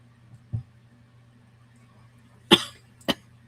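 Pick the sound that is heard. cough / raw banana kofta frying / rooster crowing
cough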